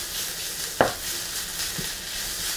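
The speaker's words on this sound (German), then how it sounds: "Und röste das Ganze noch ein bisschen an." Tomato paste roasts in a frying pan with a steady, close sizzle, broken by a single sharp utensil clink and a fainter tap.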